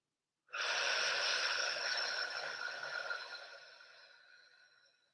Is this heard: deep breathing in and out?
yes